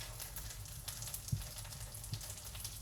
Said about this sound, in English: it's just like essentially frying them in butter